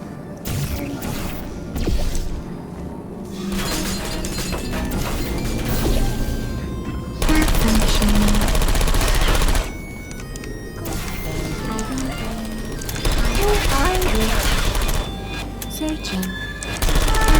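Turret gunfire in the Portal 2 video game comes in sustained loud rattling bursts with mechanical clanks and crashes, several bursts separated by short lulls, mixed with game sounds and some talk.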